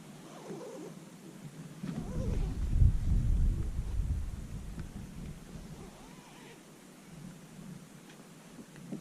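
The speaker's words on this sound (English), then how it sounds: "It's blowing a hoolie outside and it's raining, so Brian's in his tent" Wind and rain buffeting a tent at night in the Cheviot hills, a low rumbling gust swelling and easing over a steady hiss of rain.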